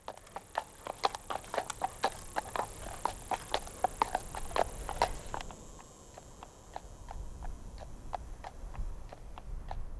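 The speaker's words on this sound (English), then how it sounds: "some footage of the real horse and rider" Horse hooves clip-clopping at a steady walking rhythm, fairly close and crisp, with a few scuffing steps and a faint background hiss with no talk.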